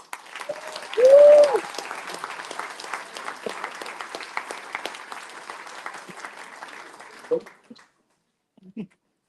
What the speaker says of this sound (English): let's get a round of applause for MTA Junior Dragster Champion, Benjamin Ari